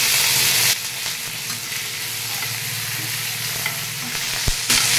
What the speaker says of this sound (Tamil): ஏன்னா அதுக்காக தான் வந்து நம்ம எண்ணெயில் வதக்கிடுறோம்